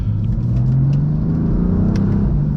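A 600 HP stage 2 BMW F82 M4 engine drones steadily from the cabin while driving, its pitch slowly rising under a constant road rumble.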